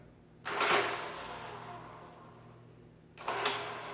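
A Marchant Silent Speed mechanical calculator shifts its carriage twice, each a fairly loud mechanical whirring clatter lasting over half a second, separated by a quiet gap of about two and a half seconds.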